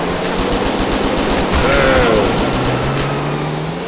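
Dense, loud automatic gunfire rattles continuously in the video game GTA 4 with an army mod, an unbroken burst of rapid shots with faint engine drone beneath.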